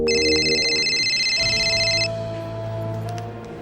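A phone rings loudly up close with a steady electronic trill that stops after a couple of seconds, leaving a low hum behind, in a Hindi TV crime drama.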